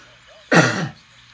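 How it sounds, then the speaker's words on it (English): A single close, harsh cough bursts out once, short and throaty, against an otherwise quiet background. "Got a little cough coming in, so sorry about that."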